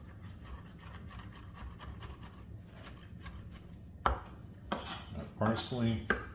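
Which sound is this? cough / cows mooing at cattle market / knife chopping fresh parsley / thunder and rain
knife chopping fresh parsley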